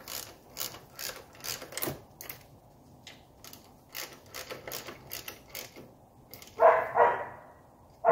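Ratchet clicks in short bursts as oil filter housing nuts are snugged onto studs of a 1982 Mercedes 300SD diesel, close and fairly quiet, followed by a couple of louder knocks near the end.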